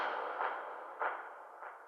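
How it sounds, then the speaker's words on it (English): Taiko drum rim shots, pitched well down and run through EQ and a stereo delay, come as three soft, smeared hits over a dense washy tail, distant and quiet. "So I have the rim shots in this taiko patch actually going through this"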